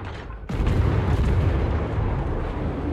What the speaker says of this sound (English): So what the fuck is King Yours shooting, AP?